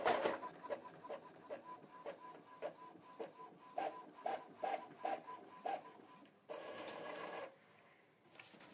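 An Epson EcoTank ET-2870 inkjet printer runs a test page, giving a steady series of mechanical clicks and whirring carriage passes, then a louder feed or motor burst before it settles, close and alone with no voices.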